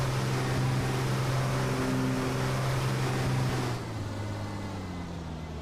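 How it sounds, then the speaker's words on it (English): Racing truck engines roar steadily in a sim racing game at Slovakia Ring, a layered droning note that drops to a quieter, thinner level near the end as the power is eased off. "Here the engine note disappear virtually as they have to be so careful with the power"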